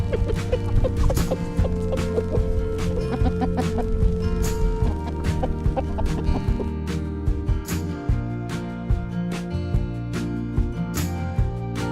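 A flock of backyard chickens clucks continuously while eating leftover greenhouse spinach, busy overlapping clucks and pecking sounds close by with no talk.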